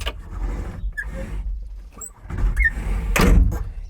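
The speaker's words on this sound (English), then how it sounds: "this big box door, the door slides from above your head" Cab door on a Kubota skid loader sliding along its overhead track, a soft rolling, scraping mechanical movement with a few faint squeaks and a louder clunk near the end, no talking.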